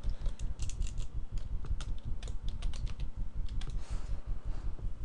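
Typing on a computer keyboard while writing a Visual Basic .NET program, with irregular close keystrokes clicking steadily throughout and no talk.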